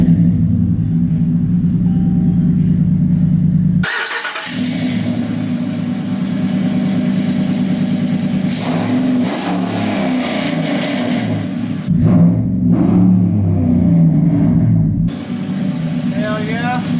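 A Ram 1500 pickup's engine roars loudly through an opened exhaust cutout, holding a deep rumbling idle broken by throttle blips and revs, with a few brief pauses and some indistinct talk nearby.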